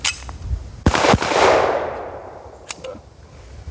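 A Hi-Point .40 handgun firing hollow point rounds, with two loud close shots in quick succession and a long echoing decay, followed later by a faint metallic clack.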